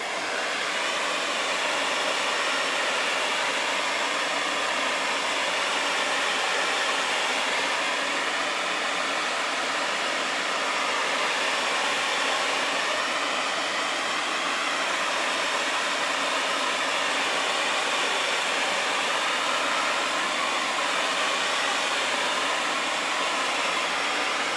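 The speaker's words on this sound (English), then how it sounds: "So I'm just gonna grab my blow dryer and dry this off really quick." Blow dryer drying wet paint on a pumpkin pedestal: a loud, steady airflow hiss runs unbroken for the whole twenty-five seconds, close and alone with no talking.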